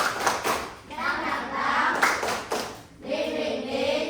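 Elementary schoolchildren in a fifth-grade class clap a rhythmic chant pattern, sharp bursts of hand claps mixed with their voices chanting along, close and lively.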